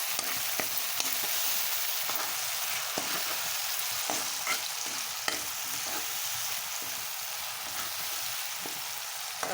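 Tomatoes and green chillies fry in a pan with a continuous soft sizzle, with occasional light clicks of a spoon stirring, close and steady throughout.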